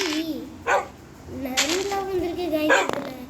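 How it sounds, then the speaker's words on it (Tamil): A fox gives a few sharp, dog-like yips and barks at intervals, brief bursts mixed in with people talking nearby. "நாய் இல்லை நரி."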